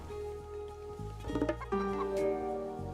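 Goats bleat in the video game Age of Mythology, a few short cries that rise over sustained game music.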